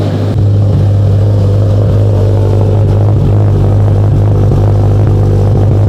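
A Subaru STi, running again after a rod-knock fault and now fitted with a new exhaust, revs steadily with a loud, deep engine drone and rough throbbing held throughout, close by with no talk.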